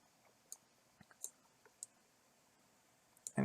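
Computer mouse clicks while tracing a partially enclosed area in hazard-mapping software, a handful of sharp, isolated clicks spaced irregularly and close by, ending with a louder burst of handling noise.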